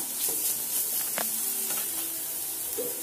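Spice masala frying steadily in a pan as small splashes of water are added, a dense close hiss with a few light scraping stirs and no talking.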